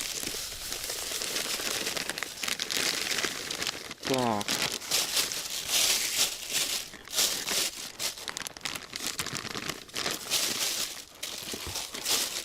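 Steady crinkling and rustling of a plastic bag as dry fishing groundbait is shaken and mixed inside, close up, with a brief spoken word.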